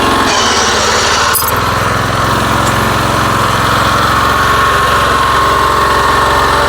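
A power weeder engine runs steadily in second gear, a loud, continuous mechanical drone with a brief clank near the start, heard close and alone without talk.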